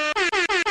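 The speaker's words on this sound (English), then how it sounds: "I'm going to give you the air horn now" An air horn sounds in a series of about five loud, close blasts in a quick, steady rhythm, each separated by a brief gap, used as a sound effect on a true-crime podcast.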